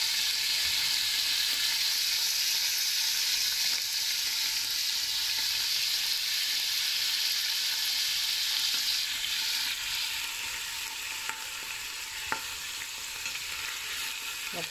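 Beef pieces for boeuf bourguignon browning in a pan give a loud, continuous close sizzle, with a few faint taps of a utensil near the end and no talking.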